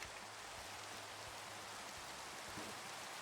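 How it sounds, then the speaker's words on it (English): Minecraft rain, a gentle continuous hiss of falling drops at low level, with a faint low hum beneath and no speech. "Minecraft rain."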